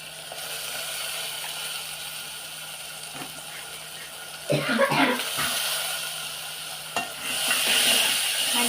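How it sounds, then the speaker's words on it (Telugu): Turmeric and soaked dal fry in a hot pan while being stirred, a low sizzle broken by scraping and clattering spoon strokes near the middle and end, heard up close. "మంచిగా కలుపుకోవాలి గోల్డెన్ బ్రౌన్ వచ్చే వరకు"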